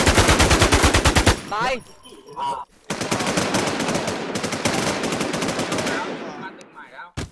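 Rapid automatic gunfire in the PvP shooter game Infestation, loud bursts of dense shots that stop, give way to brief clicks and a short speech fragment, then resume in another long stream of fire before trailing off.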